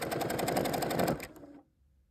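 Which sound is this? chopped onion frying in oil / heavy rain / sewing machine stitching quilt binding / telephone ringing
sewing machine stitching quilt binding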